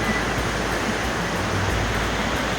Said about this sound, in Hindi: पानी की आवाज़ आप सुन सकते हैं।